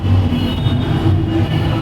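A loud, steady rumble fills the enclosed underground Sealdah Green Line metro station in Kolkata, with a constant low drone and faint rail noise and no talking.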